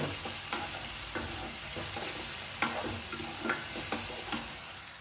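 Bay leaf and whole spices sizzle in hot oil for a mushroom and cashew masala curry, a steady close frying hiss broken by regular scrapes and taps of a stirring spoon against the pan.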